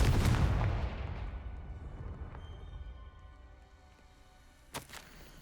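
Confringo blasting spell cast in the Hogwarts Legacy video game, a loud booming explosion at the start that rumbles and fades over a few seconds, followed by a faint sharp crack near the end.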